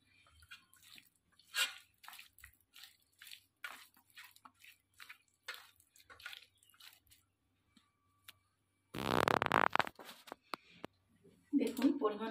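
Boiled, squeezed soya chunks get kneaded and mashed by hand in a bowl, making wet squelching and squishing bursts in an irregular rhythm, close by, with one louder, longer mashing burst near the end.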